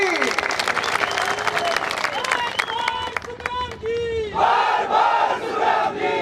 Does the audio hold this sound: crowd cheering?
yes